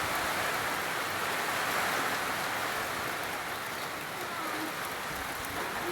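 Heavy rain falls steadily on the first day of school, a dense, even hiss close by with no breaks and no voices.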